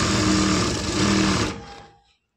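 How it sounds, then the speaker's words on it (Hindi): Sewing machine stitching a lehenga blouse, a loud steady mechanical whir for about a second and a half that then winds down and stops, heard alone. "तो दोस्तों ये हम सिलाई लगा ले रहे हैं"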